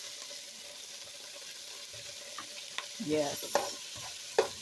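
Great northern beans sautéed in a pan, a soft steady sizzle with occasional scraping stirs and clinks near the end, one brief spoken word.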